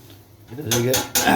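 Rice fries in a pan with sugar and water, heard as a short sizzle with two loud clattering strokes of a metal utensil scraping the pan.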